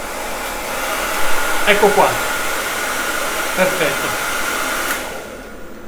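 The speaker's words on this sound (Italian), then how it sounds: "prova a riaccendere il phon per favore" Hair dryer in a home solar and wind power setup, blowing with a loud, steady broadband rush for most of the stretch before trailing off near the end, with brief talking over it.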